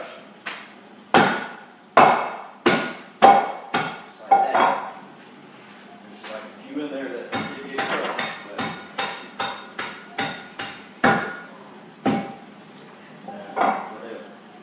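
Blue Diamond natural almonds are crushed with a pot in place of a blender, giving a run of sharp, loud thuds and clanks, first slow and widely spaced, then a quicker series of lighter knocks.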